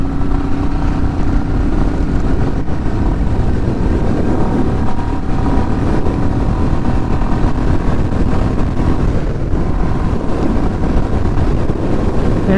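Royal Enfield Meteor 350 motorcycle engine accelerating while being ridden, a steady loud drone heard continuously with heavy wind buffeting over it and no talking.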